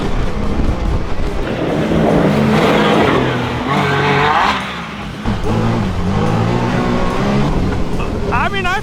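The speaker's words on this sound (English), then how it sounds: "Dude, it's definitely keeping him in a higher RPM. You hear that just going around the corner?" A Can-Am off-road vehicle's engine revs hard at high RPM as it rounds a corner, a loud, sustained roar with rising and falling pitch and voices over it.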